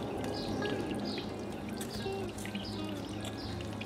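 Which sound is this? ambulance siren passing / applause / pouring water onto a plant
pouring water onto a plant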